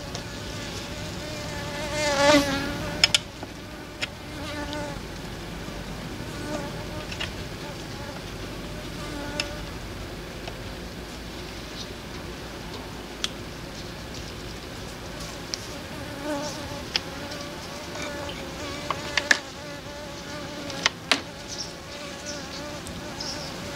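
Honey bees buzz continuously around an opened hive, a steady close drone with occasional louder passes and faint handling clicks; someone speaks quietly at times.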